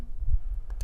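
Short, soft clicks as the M button on a Mcdodo CH-1610 wireless charging stand is pressed and held, a couple of faint taps near the end over a low background hum.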